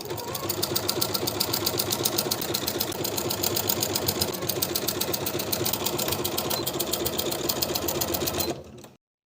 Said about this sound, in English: Then we'll sew both sides of the side panel to the garment with a 1/2 inch seam allowance